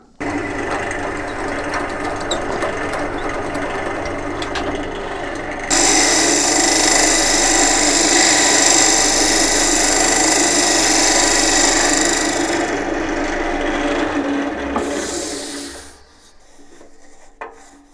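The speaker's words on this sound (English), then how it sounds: "I'm just going to use another drill bit so I can drill down to the depth I want to get." A drill bit boring down into a hollowed wooden piece, a steady continuous grinding rasp that grows louder and brighter midway, then drops off near the end; close and alone, with no talk.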